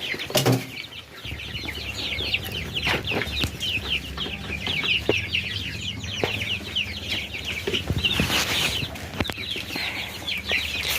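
Chickens on a farm cluck and chatter steadily in a busy flock, with bursts of wing flapping and shuffling close by and a thin layer of background hum underneath.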